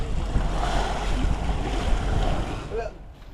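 Sea waves wash and surge around a boat near a reef off Palawan, a steady broadband roar with wind buffeting the microphone, fading slightly toward the end.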